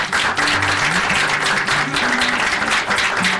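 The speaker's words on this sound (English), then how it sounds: "Can we get a nice round of applause" An audience at an evening meetup applauds in a sustained, loud wash of clapping that holds steady throughout, with a faint murmur beneath.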